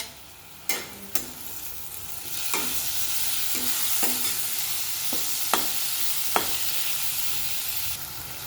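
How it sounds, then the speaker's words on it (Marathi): Tomato added to a spice tempering sizzles loudly in a pan for a Satara-style field-bean rice, a steady hiss punctuated by a handful of sharp clicks and scrapes of stirring, no speech. "मस्त अशी खरपूस ही फोडणे आपण परतून घेतली आता हा टोमॅटो घालूया"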